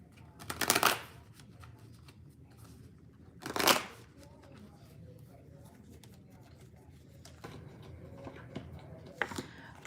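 A deck of tarot cards is shuffled in two short, crisp riffling bursts, one near the start and one a few seconds later, over a quiet room with faint background noise.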